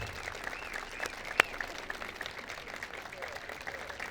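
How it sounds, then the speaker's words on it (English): A graduation crowd applauds students standing at their seats, a soft, distant wash of many hands clapping that stays even throughout, with one sharp click standing out near the start. "we're going to give them a nice round of applause"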